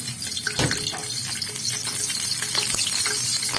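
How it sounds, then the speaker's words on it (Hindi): Onions fry in ghee in a kadhai with a continuous sizzle. One sharp clatter comes near the start, and scraping stir sounds follow. Nobody speaks. "यहाँ पे हमने घी जो है वो डाल दी है अपने कढ़ाई में। और कढ़ाई में हमने साथ ही साथ इसमें प्याज भी जो है वो ऐड करेंगे।"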